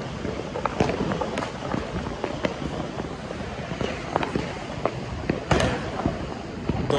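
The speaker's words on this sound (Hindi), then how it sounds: "दो दो हवाइयाँ चला रहे हैं" Diwali firework rockets launched from a bottle give sharp whooshing hisses and scattered crackling pops over a busy outdoor background, with some people talking nearby.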